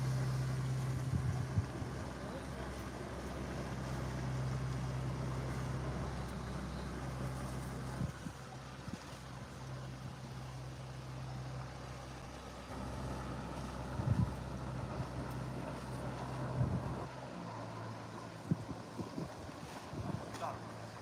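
A boat engine drones low and steady as it passes on the river at Ludham, Norfolk, with wind buffeting the microphone and faint outdoor noises.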